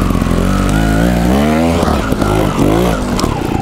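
A Gas Gas TXT trials motorcycle in second gear revs loudly and close by, its engine pitch climbing and dropping in repeated surges with no talking.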